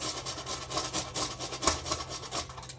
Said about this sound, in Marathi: असं बारीक किसणीने किसून घेणार आहे